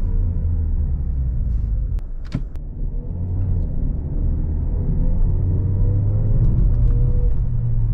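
Steady low road rumble inside a Mazda3 cabin while driving, a continuous muffled drone with tire and engine hum throughout, a couple of brief clicks midway, no voices.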